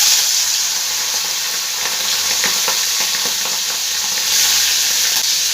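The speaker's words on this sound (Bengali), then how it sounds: "এবার এই তেলের মধ্যে আমি চিংড়ি মাছটা ভেজে নেব।" Shrimp sizzles loudly in hot oil in a pan alongside a dried red chili, a continuous bright frying hiss with occasional stirring clicks and spatters.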